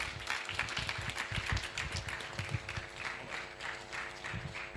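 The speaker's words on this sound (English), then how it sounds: "Please, you can do better. You can clap better." Audience at a mentorship and leadership launch event clapping, a steady patter of applause from a moderate crowd, fairly quiet and distant with individual claps audible.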